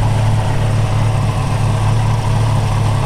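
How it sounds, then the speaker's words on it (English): The 350 V8 in a 1932 Ford Tudor resto-rod idles low and steady at roughly 500 to 600 RPM, a continuous deep rumble heard up close with no talking. "It's probably only idling at 500 or 600 RPMs"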